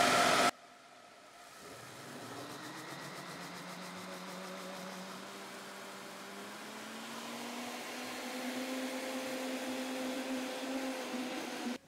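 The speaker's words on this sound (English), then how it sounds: "I'm just going to grind the rice in the same blender." A mixer blender grinds rice into dosa batter, a steady loud motor whine that runs continuously and shifts slightly in pitch as the mixture turns smooth, with no talking.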